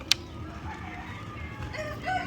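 Chickens on a farm cluck softly nearby, a few brief calls over low background noise, with no talking.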